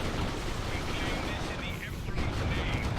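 Gunfire and heavy weapons from a Dawn of War 2 Elite Mod tournament battle, a dense continuous barrage of shots and blasts running throughout under a commentator's voice.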